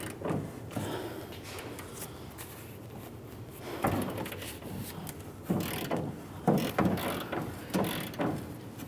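A ratchet works loose the stuck upper leaf spring shackle bolt on a 2005-2010 Dodge Dakota, with repeated metallic clicking and clunking strokes in irregular bursts, close by with no speech.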